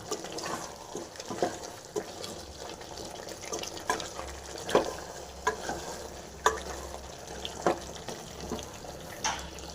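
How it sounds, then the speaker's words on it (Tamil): Cumin seeds dry-roasting and being stirred in a pan, giving a soft continuous crackle with light scraping strokes and small ticks at an even pace, faint and close, with no voices. "இந்த ஜீரகம் வந்து பார்த்திங்கன்னா நல்லா வறுத்துருக்கோம்"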